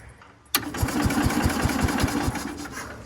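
A 1969 Bolens FMC Husky 1053 garden tractor engine cold-starts in snow: a sudden catch after a quiet moment, then a close, rhythmic chugging with regular low thumps as it settles into a rough idle.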